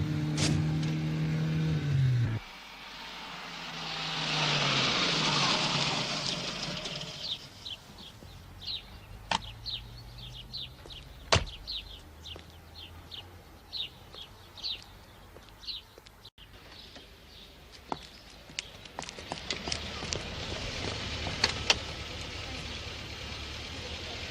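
A Polonez 1500 car drives nearby: a steady low engine hum fades after a few seconds into a broad road rush, with bird chirps and scattered sharp clicks around it.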